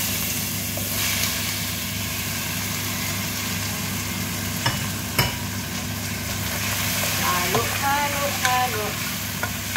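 Chicken pieces sizzle in a pan for pancit while being stirred, with a constant hiss over a low background hum and a few louder scraping knocks near the end.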